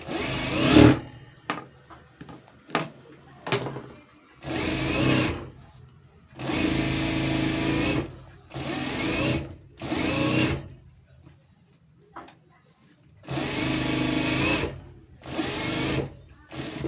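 A sewing machine stitches thread piping onto a blouse in repeated bursts of rapid whirring, some brief and some several seconds long, loud and close, with short pauses between runs.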